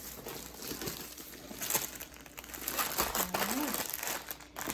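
The plastic bag holding a Diamond Art Club diamond painting kit crinkles and rustles up close as it is handled and opened, with someone talking softly over it.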